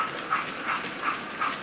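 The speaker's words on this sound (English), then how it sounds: "I hope you've enjoyed seeing this locomotive run" A King George 1 R3384TTS model locomotive runs on a radius 2 model railway curve, giving a steady rolling whir with a soft repeating chuff or click roughly every 0.35 seconds, close and alone with no talking.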